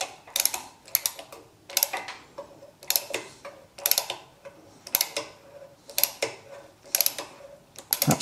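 A hand tap cuts a thread in soft aluminium for a Helicoil repair, making a steady rhythm of close, crisp clicking and ratcheting ticks, about one burst per second, with no talk.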